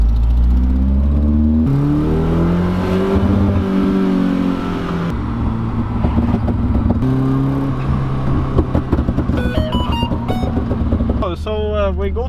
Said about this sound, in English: then I can do the pops and bangs